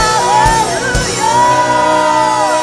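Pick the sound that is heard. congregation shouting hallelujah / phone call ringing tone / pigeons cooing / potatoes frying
congregation shouting hallelujah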